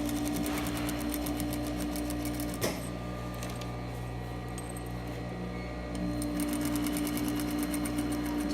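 A sewing machine stitches a skirt waistband near the side seam, running steadily and loudly with a dense mechanical whir, pausing briefly in the middle before starting up again.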